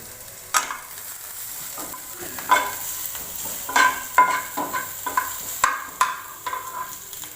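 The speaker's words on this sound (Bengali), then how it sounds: "পেঁয়াজটা হালকা ভাজা হয়ে গেছে" Chopped onions fry in hot oil in a pan for a simple Maggi noodle dish, with a continuous close sizzle broken by repeated scraping stirs of a spatula at an irregular rhythm.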